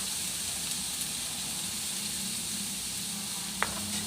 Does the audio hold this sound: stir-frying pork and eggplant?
yes